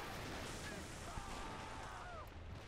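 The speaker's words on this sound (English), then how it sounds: "mortars are laying it onto the Germans" Mortar rounds pound German positions in the Men of War strategy game, a dense rumbling barrage of muffled blasts and battlefield noise that carries on without a break.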